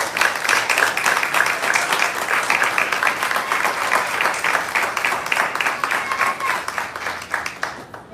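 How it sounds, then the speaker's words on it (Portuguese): A church congregation applauds during a service, loud dense clapping that fills the room continuously and then begins to fade at the very end. "Vamos aplaudir ao Senhor."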